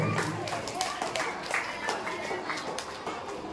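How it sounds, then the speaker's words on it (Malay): School co-curricular assembly crowd applauding participants, a broad patter of many hands with some louder individual claps, moderately distant, with faint murmurs of voices underneath. "Berikan tepukan untuk peserta-peserta kita"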